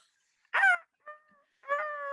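A person imitates a chicken with three clucking, crowing squawks of rising and falling pitch. The calls are close and clear, with brief silences between them.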